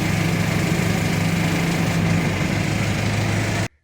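An engine idles with a steady low rumble and chug, loud and close, on a machine used to move retaining wall blocks, then cuts off sharply at the end.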